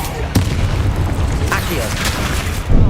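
Several loud booms from Confringo and Bombarda spell explosions in Hogwarts Legacy, the first sharp hit near the start and another near the end, set against steady game battle noise.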